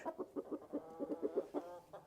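A big farm rooster clucks in a rapid rhythmic series of short, close calls.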